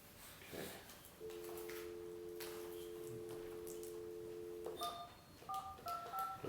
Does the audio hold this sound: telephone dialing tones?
yes